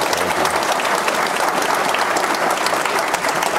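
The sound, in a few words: audience applause voting on an answer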